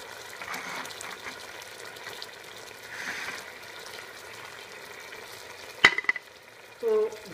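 A boiling honey, herb and sugar mixture is stirred in a pot, a quiet steady bubbling hiss with soft scraping, a sharp clink near the end and a short final burst of sound.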